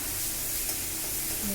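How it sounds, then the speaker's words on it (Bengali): Garlic paste sizzles softly in a hot pan while being stirred, a short steady hiss with light scraping throughout, fairly quiet and close. "রসুন বাটা, এটা দিয়ে আমি একটু ভালো করে নাড়িয়ে নেব।"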